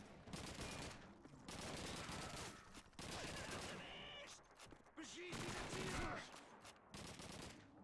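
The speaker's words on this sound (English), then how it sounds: "Why are we still shooting?" Dense gunfire from Call of Duty 2, a World War II shooter, crackling in rapid overlapping volleys throughout, with automatic bursts and scattered single shots, while voices talk and shout over the battle.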